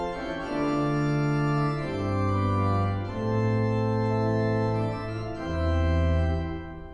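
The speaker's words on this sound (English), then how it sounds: "So you have a full principal chorus" 1992 Reuter pipe organ playing a full principal chorus with mixture, bright and full sustained chords that shift every second or two with a steady bass line, loud and alone in a resonant church.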